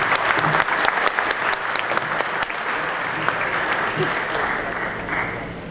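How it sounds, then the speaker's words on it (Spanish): A hall audience applauds an award recipient at a physics prize ceremony, steady loud clapping throughout with a voice speaking over it. "Un aplauso para el doctor Francisco de Sela."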